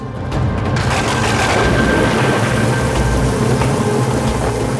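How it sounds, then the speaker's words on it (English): A thunderstorm with rain: heavy, steady rainfall hisses throughout while low thunder rumbles and booms underneath, loud and enveloping, with no voices. "It gets hot and stormy and floods happen."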